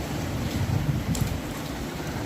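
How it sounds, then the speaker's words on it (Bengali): Heavy rain and gusty stormy wind from Cyclone Remal make a constant dense rushing wash, with low buffeting wind noise on the microphone and no voices. "ভারী বৃষ্টি হওয়ার দরুন চারিদিকে এত জল জমেছে তারপরে সাথে রয়েছে ঝোড়ো হাওয়া"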